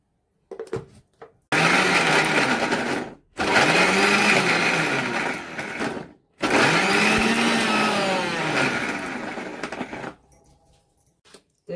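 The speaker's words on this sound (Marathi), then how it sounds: "आणि मिक्सरला एकदम बारीक अशी पेस्ट तयार करून घ्यायची आपल्याला" A kitchen mixer grinder whirs loudly as it grinds green chilli, garlic and ginger into a fine paste without water, in three long bursts separated by brief pauses.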